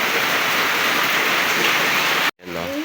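A dense, unbroken hiss of heavy rain falls after a typhoon in a flooded yard, cut off abruptly near the end before a voice begins over the returning downpour.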